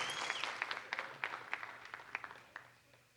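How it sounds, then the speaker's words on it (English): Church congregation applauding baptism candidates, a steady wash of many hands clapping with scattered sharper claps standing out, fairly distant and soft in a large room. "let's give our baptism candidates a great big thank you and applause"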